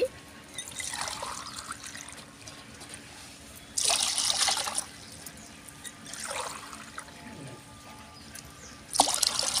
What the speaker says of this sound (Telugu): 3 గిలాసుల నీళ్ళు ఎసరు పోతా.